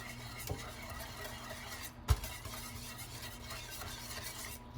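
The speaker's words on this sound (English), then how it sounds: "As I continue to mix it" Coconut macaroon mixture stirred with melted butter in a cooking pot, a soft steady scraping and swishing in circular motion, fairly quiet and close, with one brief knock partway through.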